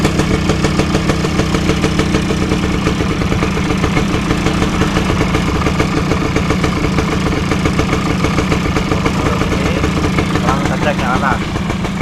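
Suzuki RC 100 motorcycle engine idling steadily and loudly throughout, a constant low rumble with a brief voice near the end.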